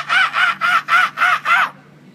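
A voice imitates a crow, giving six loud, harsh caws in an even rhythm, close to the listener, then stopping abruptly.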